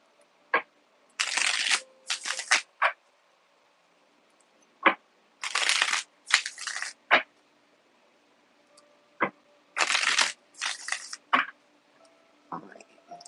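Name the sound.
shuffling cards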